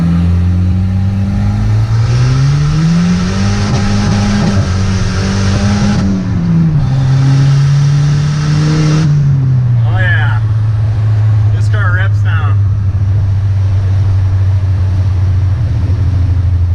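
Turbocharged Volvo 740 engine with the boost turned up, revving hard with a loud steady drone that rises and falls as it accelerates, while chirpy tyre-like squeals cut in near the end.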